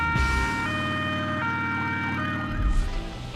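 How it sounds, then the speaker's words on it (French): Police car sirens wail together at a large gathering of police cars and motorcycles in Dijon's town centre, several rising and falling tones overlapping loudly over a low engine rumble. "Direct Auto vous embarque, toute sirène hurlante"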